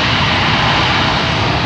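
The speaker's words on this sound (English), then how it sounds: "This airplane is backing up under its own power" A Boeing C-17 military transport roars at close range with its engines in reverse thrust as it backs up under its own power, a loud, sustained, unbroken engine blast.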